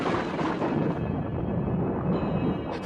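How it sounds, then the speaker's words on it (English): Thunder rumbles outside a house, a deep rolling crash that starts loud and slowly fades over a few seconds, with no speech. "Thunder crashed outside the house"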